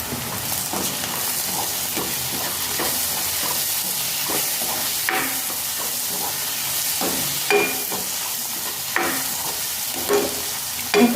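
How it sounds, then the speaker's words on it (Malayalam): Tomatoes for egg bhurji sizzle in a hot pan while a spoon stirs them, making repeated scraping strokes over a constant frying hiss, close and fairly loud. "തക്കാളിക്ക ഇങ്ങനെ 2 മിനിറ്റ് ഒന്ന് ഇളക്കി കൊടുത്താൽ മതി."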